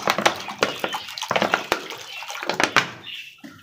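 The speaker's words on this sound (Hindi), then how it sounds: "अब ज़रा हम कबूतरों के लिए भी पानी रख लेते हैं भाई, ये भी ज़रा प्यासे है तो पी ले पानी।" Drinking water poured from a container into a bowl inside a pigeon cage, giving close splashy gushes and sloshes in short uneven bursts, fairly loud, with quieter trickles between them and nobody talking.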